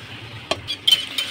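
A spoon stirs ground spices (salt, black salt, chaat masala, cumin powder, red chili powder) in a bowl for dahi fulki, giving a few quick scraping clinks against the bowl over a quiet background.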